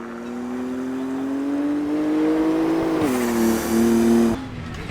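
A BMW race car engine in a sim racing game on the Nordschleife, a loud, steady engine drone that rises in pitch, drops briefly at a shift, then climbs again.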